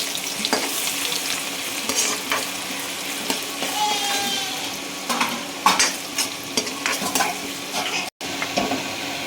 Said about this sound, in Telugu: ఆయిల్ కాగిన తర్వాత ఆయిల్ కాగుతుంది కదండి ఇప్పుడు చెక్క లవంగ మొగ్గ వేసుకుందాము